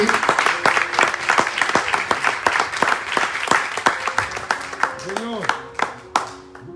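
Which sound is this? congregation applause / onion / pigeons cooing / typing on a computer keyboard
congregation applause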